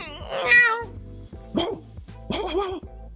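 A voice imitates a dog with a few short, loud barking yelps in quick succession, close and clear.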